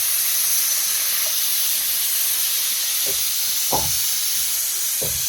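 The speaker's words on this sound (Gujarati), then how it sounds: "કુકર મેલી દઈને સીટી પડવા દઈએ." A pressure cooker releases steam while khichdi cooks, a loud continuous hiss throughout, with a few soft low knocks underneath.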